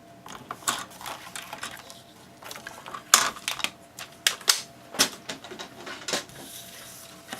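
A Fiskars paper trimmer working through paper, a series of irregular clicking, sliding and snapping blade strokes, close and fairly crisp.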